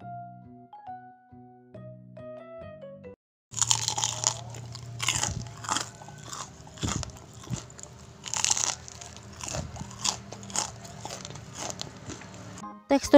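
Crisp crunchy bites and chewing of curly battered fried banana, KFC-style with a frilly crispy coating, come as repeated loud crunches close to the mic after a short musical intro.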